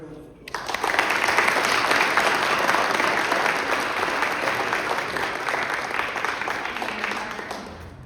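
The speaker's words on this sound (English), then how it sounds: "So give her a round of applause" An audience applauds a city revenue commissioner at a Philadelphia government business event, a sudden swell of dense, sustained clapping from a sizable crowd that holds steady for several seconds before easing slightly.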